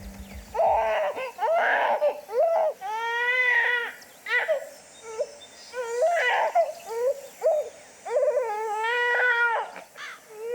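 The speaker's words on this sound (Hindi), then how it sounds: "बच्चा रो रहा है यार।" A baby wails in repeated rising and falling cries with short breaths between, loud and close, continuing for several seconds with no talk.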